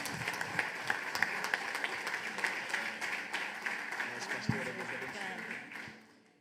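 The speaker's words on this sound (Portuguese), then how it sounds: "Uma linda salva de palmas para o Senhor." A church congregation claps together in a dense, lively burst of applause with scattered louder claps and faint crowd murmur, fading out toward the end.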